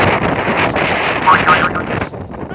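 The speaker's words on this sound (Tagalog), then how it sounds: "Dala ng hangin." Strong wind blows outdoors at night and buffets the microphone with loud, rushing gusts that roar continuously before easing slightly near the end.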